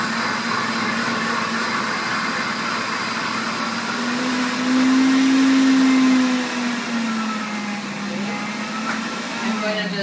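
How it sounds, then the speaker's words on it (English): Blender whipping cream into butter, a loud continuous motor whine that swells in pitch and volume midway before easing back, steady for the full length with no speech over it. "I'm just going to use a blender."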